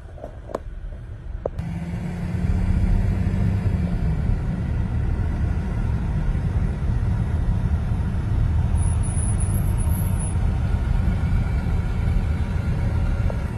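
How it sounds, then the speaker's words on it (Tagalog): Steady rush-hour traffic on the I-15 freeway southbound, heard from inside a moving city bus: a continuous low engine and road rumble, loud and even, with a couple of brief knocks at the start before the drone builds. "Talagang rush hour ito, guys. So traffic papasok sa freeway."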